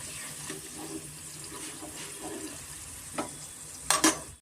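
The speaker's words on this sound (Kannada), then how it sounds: "ನಾನು 2 ಸತಿ ನಾನು ಡೀಪ್ ಫ್ರೈ ಮಾಡ್ಕೊತೀನಿ" Potato pieces deep frying in hot oil for a second round, a steady soft hiss and bubbling throughout, with a few sharper crackles and a louder spatter near the end.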